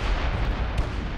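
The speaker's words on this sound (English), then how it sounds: "Yep, there's some more explosions." Heavy booming explosions from spaceship collisions in the video game Space Engineers, a loud, dense low rumble with bursts over about a second.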